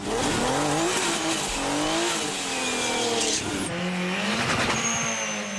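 A BMW and a Saab drag race, engines revving and wailing through shifts with tire squeal, a steady loud roar of two cars accelerating together.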